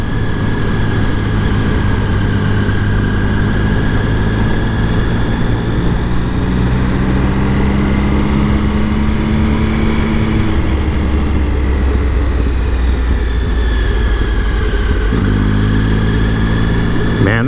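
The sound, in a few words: Triumph Speed Triple motorcycle engine low grunt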